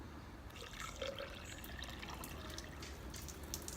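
Water leaks and drips from a container under test outdoors at night, a soft continuous trickle with scattered small splashes over a faint noisy background.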